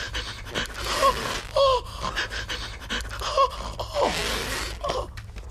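A cartoon character breathes deeply and pants in repeated heavy in-and-out breaths with a raspy, voiced edge, loud and close, in a steady rhythm of several cycles without any speech.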